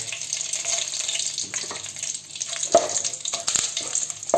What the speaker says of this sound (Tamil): கடுகு நல்லா அழகாக வெடிச்சு வருது இப்போ நம்ம வந்து இந்த கருவேப்பிலையை போடுறோம்